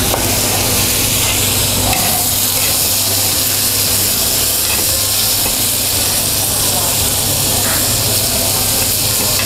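Ingredients for grilled rib satay, tomato among them, sauté in a hot pan with a loud, steady sizzle and hiss, close up and unbroken.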